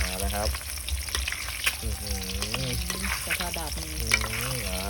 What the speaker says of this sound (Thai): นี้เริ่มเป็นไข่เป็นฟองนะครับ เริ่มฟูครับ